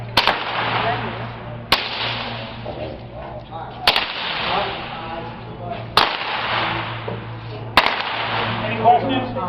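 Rifles fire in volleys during a historical shooting demonstration at Fort Delaware, five sharp reports spaced roughly two seconds apart over steady outdoor rumble and murmuring.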